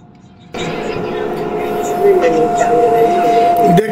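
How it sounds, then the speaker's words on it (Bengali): Bullet train from Guangzhou slowing as it nears Shenzhen North station: a steady rumbling cabin roar with a sustained tonal hum and shifting whine as speed drops, with a faint voice at moments. "আমাদের ট্রেন আস্তে আস্তে স্লো হচ্ছে"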